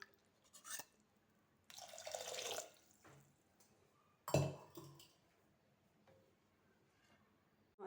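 Water poured from a glass into a cooking pot for mango rasam, short splashing pours with small clinks between them, close and fairly quiet in a still kitchen.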